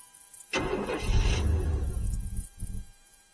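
A 1994 Chevrolet S-10 pickup, parked for 16 years, cranks and catches with a rough, sputtering roar for a couple of seconds, then stumbles and dies in a few weak coughs.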